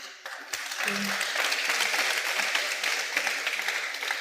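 An audience at a question-and-answer session claps in a dense, sustained round of applause close by, steady and continuous after a brief start.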